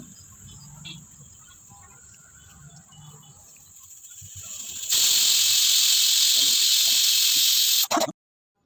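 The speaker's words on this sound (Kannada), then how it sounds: "ಈಗ ಕುಕ್ಕರ್ ಕೂಗಿ ಆಯಿತು ನೋಡಿ" Quiet chirping background, then a loud, steady, high-pitched pressure cooker whistle hisses for about three seconds before cutting off abruptly while cooking soya vegetable pulao.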